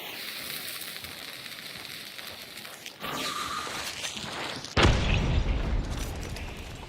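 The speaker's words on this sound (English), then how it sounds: "I'm gonna throw a nade to clear the concertina." A grenade blast in the game Hunt: Showdown, a sudden loud boom that follows a shorter burst, with crackling, sizzling debris trailing off afterward.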